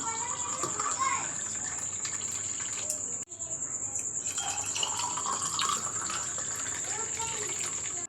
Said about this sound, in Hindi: साथ डालेंगे हम इसके अंदर पानी।